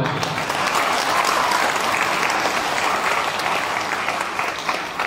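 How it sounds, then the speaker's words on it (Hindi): Steady, dense audience clapping at a leadership development seminar, a full room of hands applauding continuously and fairly loud throughout. "एक बार ताली जब सुनो।"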